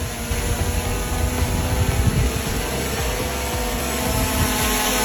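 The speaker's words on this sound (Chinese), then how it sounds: "好，飞机现在已经降落下来了。" A small consumer drone descending and landing after an automatic return-to-home flight from a 20-metre return altitude, its propellers giving a steady, close, continuous whirring drone with a rumbling low end throughout.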